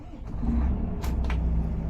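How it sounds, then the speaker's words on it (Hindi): A Volvo bus engine starting up close, a loud low diesel rumble that holds steady, with a couple of short bursts of air hiss over it. "तो चलिए अब गाड़ी को स्टार्ट कर लेते हैं।"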